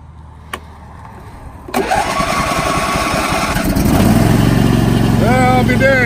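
A riding lawn mower engine cranks and catches, a brief click then a rising start that settles into a loud, steady idle up close, with a voice speaking near the end.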